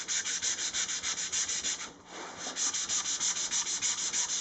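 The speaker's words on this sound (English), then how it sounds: "I don't worry about sanding against the grain or anything like that." Rhythmic back-and-forth hand-sanding strokes on the arched wooden top of a Les Paul-style guitar, steady and close, with a brief pause midway before the scraping rhythm resumes.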